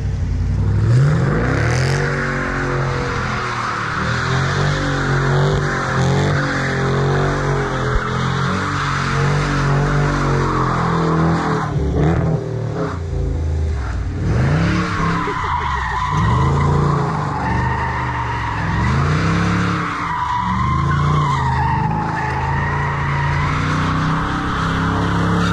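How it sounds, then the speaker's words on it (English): A car skids with loud, sustained tire squeal over revving engine, the squeal sweeping up and down through repeated slides and bursts of acceleration, close and continuous throughout. "Do a skid."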